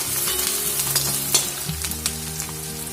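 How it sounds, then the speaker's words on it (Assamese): Onions sizzle and fry steadily in a pan while being stirred for a mutton curry, a dense continuous crackle with occasional scraping of the spoon, no voices. "পিঁয়াজখিনি দিয়াৰ পিছত মই ভালদৰে লৰাই ল'ম।"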